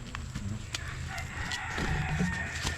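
An old rooster crows from some distance on a rural property beside a pond, its drawn-out call carrying faintly over soft outdoor background noise.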